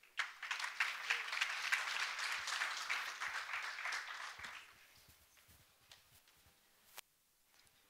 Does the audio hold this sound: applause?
yes